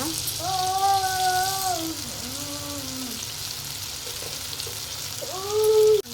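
Chopped tomatoes hitting a hot pan for tomato paratha, giving a steady close sizzle with a few brief whining tonal squeals riding on top, loudest near the end.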